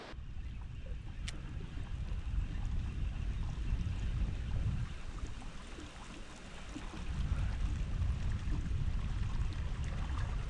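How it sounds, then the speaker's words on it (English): Strong wind buffets the microphone beside a river while camping and fishing for Murray cod out west, a steady, heavy low roar that swells and eases for the whole stretch, with no talking. "but it's definitely windy this morning"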